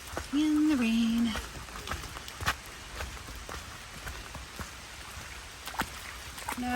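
Rain patters steadily on a forest hiking trail, a soft continuous hiss with scattered sharper drops, while a brief tonal sound rises near the start.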